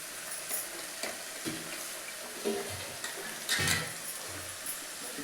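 Chopped beetroot being stirred and fried in a pan: a soft, steady sizzle broken by scraping stirs and clinks from a spoon at irregular intervals, fairly quiet, with no voices.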